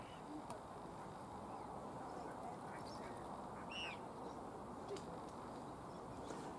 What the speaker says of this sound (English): The only bird that seems to be sticking close by to this little bird is that duck up there.